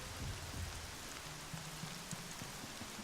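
Steady rain pattering on surfaces in the video game Horizon Zero Dawn, a soft continuous hiss of falling drops with faint scattered taps, heard alone and fairly quiet.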